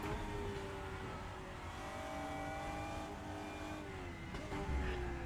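A Lotus Evora GT4 race car engine in the RaceRoom sim, a continuous tonal drone with gradually rising and falling pitch as it accelerates through corners, steady and close, with no talk.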